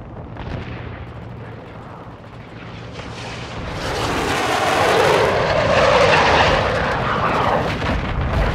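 A friendly aircraft strike arriving in Call of Duty Modern Warfare II, a loud jet roar that swells and rushes overhead with rumbling blasts, heard alone without talk.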